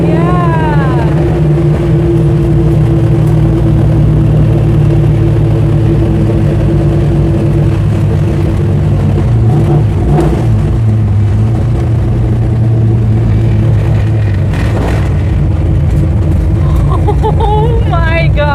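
A 1968 Dodge Charger's engine pulls hard in third gear, its loud, steady, throaty drone heard from inside the car as the pitch climbs and shifts, with brief voices over it.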